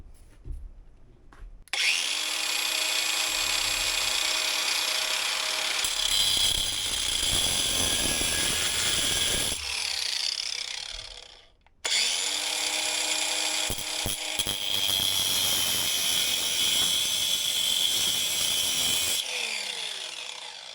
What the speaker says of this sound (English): I'm going to take a cut-off wheel and I'm going to cut the sides off to right angle them